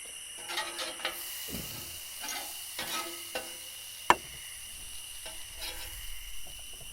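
Onions sauté beside a burger on a camp grill, making a faint, uneven sizzle with soft scraping and one sharp clack partway through.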